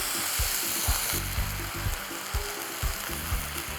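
Garlic and shallots sizzle in a frying pan, a steady bright crackle of hot oil broken by regular soft scraping and stirring strokes, close up with no talking.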